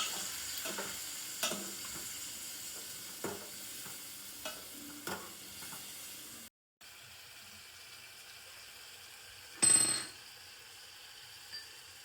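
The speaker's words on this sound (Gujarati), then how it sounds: "પનીરને ફ્રાય થોડી વાર થવા દેવું પડશે." Paneer fries and is stirred in a pan, with a steady low sizzle and periodic scraping clicks of a utensil, a short break of silence, then a brief louder hiss; no voices.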